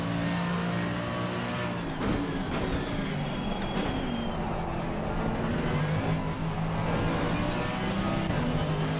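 A race car engine roars through a hot lap in a sim racing game, holding a steady, loud drone with rising and falling revs and shifts, alone with no talk.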